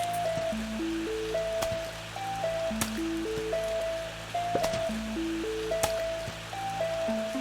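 Rain falls in the video game Plants vs. Zombies, a steady soft hiss of drops and splashes under a looping stepped game melody, with faint scattered ticks throughout.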